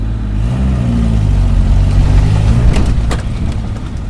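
A Suzuki Samurai engine running a Toyota carburetor pulls uphill in second gear on a driveway, a loud, close, rising drone with smooth acceleration and no voices.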